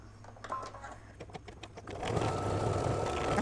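Embroidery machine stitching a yellow tack-down outline on an in-the-hoop mug rug, first a few sparse clicks and taps, then a steady, fast mechanical whir of needle strokes building up, close and moderately loud.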